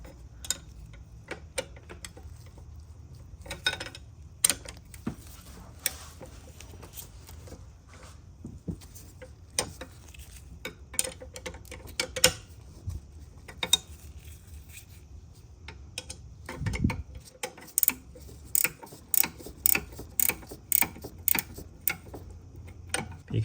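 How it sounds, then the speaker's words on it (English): A ratchet wrench clicks in rapid runs while loosening a 14 mm alternator nut on an Acura NSX engine, close and sharp, with pauses between bursts. "So you're just going to unloosen that nut, and then you can loosen tension on the alternator belt."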